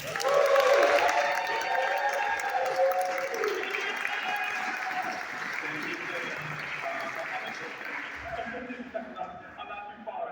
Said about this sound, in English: Can you give it a round of applause for Jabari Bisport?